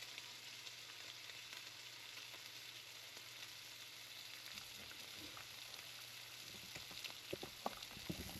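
Fish fillet fries in a pan with a faint, steady sizzle, a soft crackle that grows a little busier toward the end.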